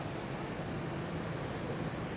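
Gentle ocean surf at Da Nang beach, a steady low wash of small waves mixed with wind noise, heard without speech.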